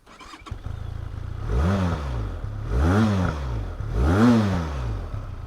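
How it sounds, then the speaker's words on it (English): A 2021 Benelli TRK 502 motorcycle engine revs three times, recorded from inside the rider's helmet, each rise and fall of the exhaust note loud and close, with a throaty rumble between blips. "listen to the exhaust note because everybody loves the sound engineering from Benelli."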